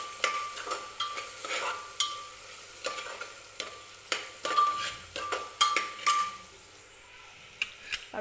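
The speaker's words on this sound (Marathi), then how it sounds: "आणि हे सगळं व्यवस्थित मिक्स करून घ्यायचं आहे." A spiced Maharashtrian masale bhaat mixture with asafoetida is stirred in a pressure cooker, giving close, repeated scraping and light clinking strokes in an irregular rhythm over a faint sizzle, with no talking.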